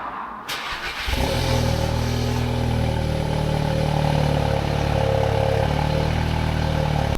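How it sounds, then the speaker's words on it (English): An Audi S3 with a DSG gearbox cranks briefly and fires up about a second in, then settles into a steady, loud idle that runs unbroken with a faint mechanical clatter. "we're going to start the car now"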